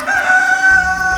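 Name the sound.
birds calling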